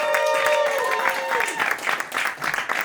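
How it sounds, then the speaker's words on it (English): Audience at a New York roast battle comedy show clapping and cheering as a comedian is brought on, a dense, steady wash of applause throughout, with a host's voice briefly heard over it near the start. "start clapping right now for one of my favorites"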